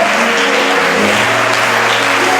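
A congregation applauds continuously in a church service, dense steady clapping filling the room at a constant loud level with no pauses.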